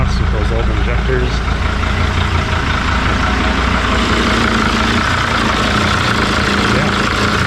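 A Mercedes OM612 diesel in a T1N van idles smoothly and loudly up close, a steady low rumble with even combustion and no exhaust pulsing, while people talk over it.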